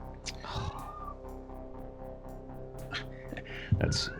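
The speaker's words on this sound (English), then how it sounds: "we have these little toy braided pieces of fleece that one of the cats, Maggie, likes to carry around in her mouth and sing" A cat with a braided fleece toy in its mouth yowls in drawn-out, sing-song cries, several of them close by, over a steady indoor background hum.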